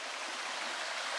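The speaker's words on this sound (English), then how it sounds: "There's the river" The Newwood River flows with a soft, steady hiss of moving water, faint and continuous with no voices.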